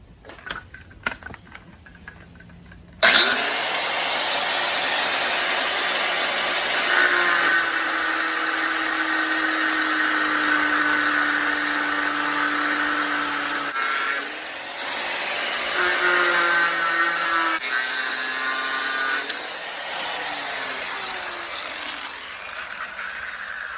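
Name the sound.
grinder cleaning up an A/C compressor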